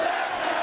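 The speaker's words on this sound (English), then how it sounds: "Hear the crowd." Crowd at a wrestling show roaring during a Greco-Roman knuckle lock, a dense sustained wall of cheering voices heard from within the arena.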